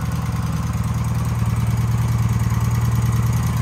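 BMW Airhead motorcycle engine idling, a steady close rhythmic low thumping that stays even and continuous throughout, with no voices.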